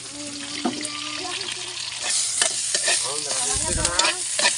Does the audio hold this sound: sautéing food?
yes